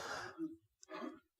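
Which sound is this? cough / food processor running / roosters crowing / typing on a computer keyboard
cough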